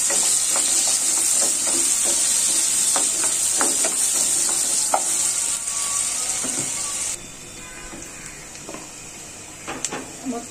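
Onions frying in hot oil crackle and hiss steadily up close, with spatula scrapes and taps; the sizzle suddenly drops to a quieter level partway through.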